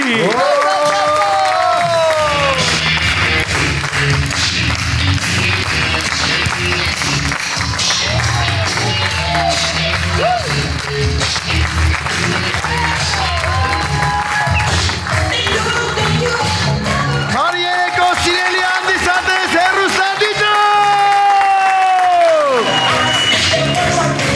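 Audience at a comedy show applauds and cheers to welcome a guest, a dense, loud crowd sound lasting throughout, mixed with voices and tonal music.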